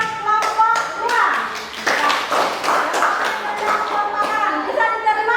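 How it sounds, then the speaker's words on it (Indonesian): Students in a classroom clap for a presenting group, the hand claps sparse and uneven beneath overlapping children's voices and chatter throughout. "Tepuk tangan buat kelompok 2."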